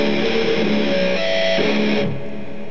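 Heavy distorted electric guitar riff in drop D, loud and dense with chugging low notes and brief melodic shifts, ending in a short ringing tail.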